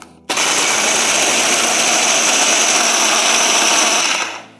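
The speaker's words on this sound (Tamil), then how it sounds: "இன்னொரு நெக்ஸ்ட் பேட்ச் நம்ம வந்து மிக்சியில் அரைச்சி எடுத்துக்கலாம்" A kitchen mixer grinder grinding a batch of ingredients for healthy ladoo, starting abruptly with a loud, steady, high-pitched whirring roar for about four seconds before winding down.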